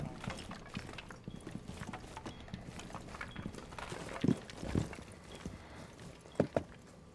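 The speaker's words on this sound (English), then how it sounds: "I can sense his footsteps." Enemy footsteps in a first-person shooter match echo down a hallway as a steady run of soft thuds, with a few sharper, louder steps standing out near the end against a busy game background.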